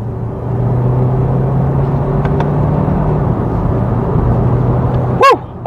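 A 2022 Kia Sportage Hybrid GT Line accelerates in sport mode on a dual carriageway, a steady low engine and road rumble heard from inside the cabin, continuous throughout, with a brief sharp knock near the end.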